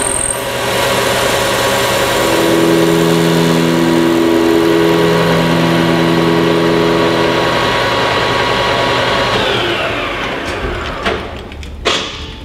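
A lathe or boring machine cuts the inside edge of a metal cylinder, a steady loud tonal whine with a continuous grinding hiss that runs for about ten seconds, then fades and stops with a few clunks.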